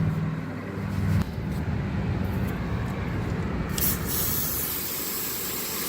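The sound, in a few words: spraying cleaner onto a napkin for throttle body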